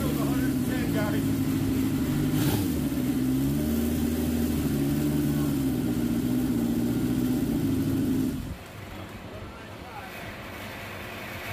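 A turbocharged Honda CB750 motorcycle engine running hard on a dyno, a loud sustained droning roar with a steady pitch through a full-rpm pull that cuts off sharply near the end, leaving a quieter rumble.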